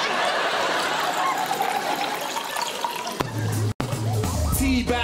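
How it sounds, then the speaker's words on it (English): Tea poured down a sink makes a steady broadband splashing of liquid that runs for several seconds, broken by a brief cut, then a lower gurgling drain sound near the end. "Pour it down the sink"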